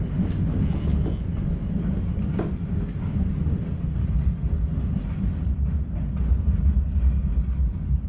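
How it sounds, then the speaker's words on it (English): A train rumbles past at close range, a steady heavy roar with low clattering from the wheels, continuous throughout with no voices. "let's put you up there and let you watch the train go by"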